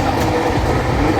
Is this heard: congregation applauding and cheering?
no